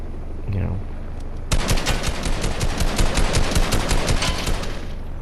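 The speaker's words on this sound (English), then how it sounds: "I'll just empty my clip and hit him twice." Rapid automatic gunfire in Fortnite as a clip is emptied, a sustained burst of close, loud shots starting abruptly after a brief quiet opening and continuing steadily to the end.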